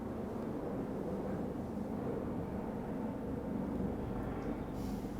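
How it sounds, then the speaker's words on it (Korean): A helicopter passes overhead, heard as a steady, broad engine and rotor rumble at moderate distance, holding even throughout with no talk. "저 헬기 지나가는 소리를 여기 이를테면 뭐 100여 분이 동시에 듣고 있는 거야."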